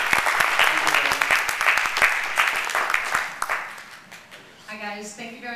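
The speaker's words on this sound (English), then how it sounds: "So give her a round of applause." A live audience claps steadily at a social media marketing presentation, dense applause that thins out toward the end as a voice starts to speak over the last moments.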